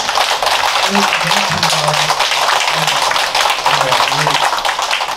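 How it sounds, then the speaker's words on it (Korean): Audience clapping together at the closing ceremony of an international academic conference, a fairly dense patter of applause running throughout with a voice speaking over it. "다 같이 박수를 하면서 마치도록 하겠습니다"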